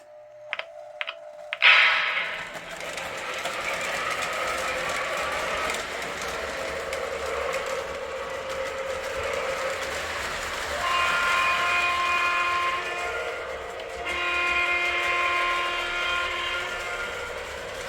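Sound from a Weaver Gold Edition GE U25B O gauge Pennsylvania Railroad diesel locomotive model: a few short clicks, then a steady loud diesel engine drone with two stretches of horn blowing over it, no talk.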